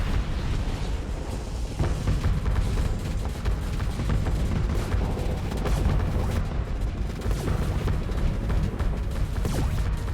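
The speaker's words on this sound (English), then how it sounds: "Ah, the sound of Giga Cannons in the morning." Continuous heavy Giga Cannon fire in a video game, with booming blasts and rumbling impacts layered densely over ten seconds, loud and chaotic.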